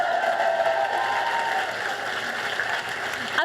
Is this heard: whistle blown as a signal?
no